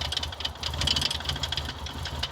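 The KNIGHT 4000 car's engine running at idle, a close, steady low rumble with an uneven pulsing beat and a rattly mechanical edge, heard alone without talk.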